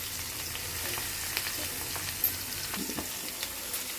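Beans fry with curry leaves in a pan, a soft continuous sizzle broken by light stirring scrapes and a few small pops, heard alone without any talking.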